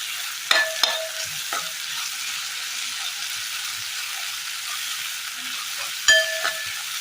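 Two green chillies go into prawns frying in a pan and are stirred, giving a steady, close hiss of oil with a few sharp spoon clinks and scrapes at the start and again near the end.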